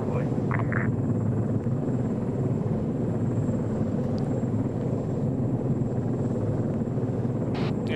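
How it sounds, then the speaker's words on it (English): In a military video game, a helicopter approaching makes a steady, loud, broad rumbling roar that fills the whole stretch, with people talking over it. "MERT heli is coming in now"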